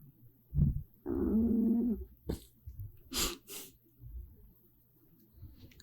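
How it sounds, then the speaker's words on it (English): A small short-nosed bulldog puppy snores and snorts close up, with a drawn-out rumbling breath followed by short wheezy snuffles and quieter breathing. "You hear my puppy snoring?"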